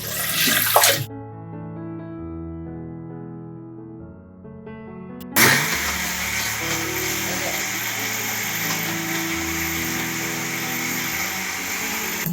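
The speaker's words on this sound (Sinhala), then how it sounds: "ගොරක ඉති 6යි, වතුර වීදුරු 2යි, සීනි තේ හැඳි 6යි, ලුණු ටිකයි සියල්ලම මේ බෙන්ඩර් කිරීමට දාගත්තා" A kitchen blender starts up loudly and whirs steadily as it mixes goraka with water, sugar and salt into juice. The start is preceded by a few seconds of quieter tonal humming.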